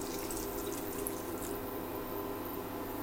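Water poured into a pot of green gram sprout curry makes a steady, close splashing and running sound that holds at an even level throughout, with no talking.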